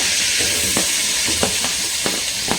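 Onion pieces sizzle loudly in a hot kadai, a dense continuous hiss broken by several brief stirring scrapes at irregular intervals, heard close with no voices.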